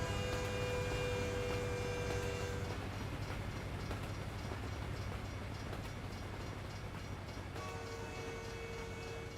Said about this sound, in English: There's a train behind us there.